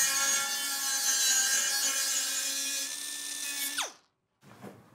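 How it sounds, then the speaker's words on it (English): An air tool spins an abrasive against sheet metal seams on a 1970 Dodge Charger, giving a steady, loud, high-pitched whine that winds down in pitch, stops, then briefly returns. "I'm just going to use some of my air tool abrasives to make sure that I get those seams all just right."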